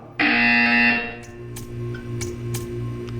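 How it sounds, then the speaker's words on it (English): A loud electronic buzzer from the video game Portal 2 sounds for just under a second, then gives way to a lighter pattern of ticks and clicks over a low hum. "When you hear the buzzer, stare at the art."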